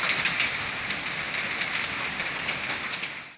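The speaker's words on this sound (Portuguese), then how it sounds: "chuva com granizo e vento forte causaram estragos ontem em Paramirim" Hail and rain driven by strong wind in Paramirim, Bahia, make a dense, steady hiss and patter with scattered sharper ticks of marble-sized ice striking surfaces.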